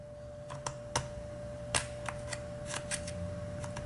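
Sharp little clicks and snips come from a blade carefully cutting along the edges of a BMW key fob's plastic casing, an irregular series of quiet close ticks over a faint steady hum.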